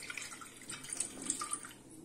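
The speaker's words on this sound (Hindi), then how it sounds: "और इसमें हम आधे कप से भी थोड़ा कम पानी डालेंगे" Water is poured into a pressure cooker holding sweet potatoes for steaming, a short, close splashing trickle that rises and falls in small bursts.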